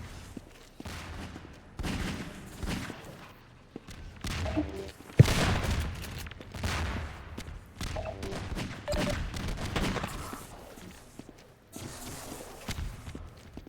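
A video game shooter match, with irregular bursts of gunfire, running footsteps and sharp hits in varying loudness, including one standout crisp impact like a kill sound effect near the middle.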